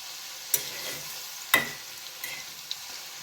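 Kuli pitha frying in hot oil gives a soft, steady sizzle, with two sharp utensil clicks standing out near the start.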